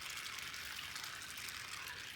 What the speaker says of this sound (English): We're adding 4 cups of water.